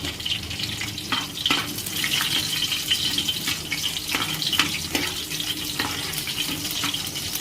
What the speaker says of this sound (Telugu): ఇప్పుడు ఇందులో మనం కచ్చపచ్చగా దంచుకున్న ఎల్లిపాయలు వేసుకుందాం.